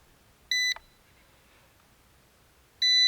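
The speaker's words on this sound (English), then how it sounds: "I'm going to turn on the remote control. It's going to start beeping." Two short, bright electronic beeps from a Ruko F11 Pro 2 drone remote control powering on, each a quick multi-tone chirp, spaced about two seconds apart over quiet background hiss.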